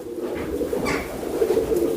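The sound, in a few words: Ferozpuri pigeon cooing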